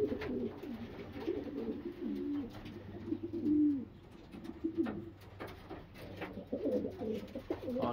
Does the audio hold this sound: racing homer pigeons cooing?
yes